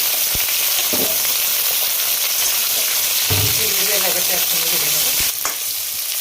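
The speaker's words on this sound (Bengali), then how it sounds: "গাজরটা দিয়ে দিলাম ভাজার জন্য" Carrots frying in hot oil for a vegetarian navratan curry give a steady, close sizzle throughout, with a few soft knocks and stirring sounds and no talking.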